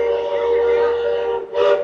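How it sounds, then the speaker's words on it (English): A train whistle at Magic Kingdom in Walt Disney World blows in two steady, fairly loud blasts, the second shorter, with no talking over it. "That's the train whistle."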